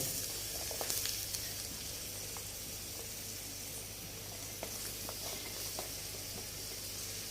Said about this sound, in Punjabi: ਇੱਕ ਕੜਛੀ ਆਪਾਂ ਤੇਲ ਦੀ ਲੈ ਲਈ ਸਰੋਂ ਦਾ ਤੇਲ ਆ ਇਹ ਤੇ ਇਹਦੇ ਵਿੱਚ ਨਾ ਆਪਾਂ ਪਿਆਜ਼ ਪਾ ਦੇਾਂਗੇ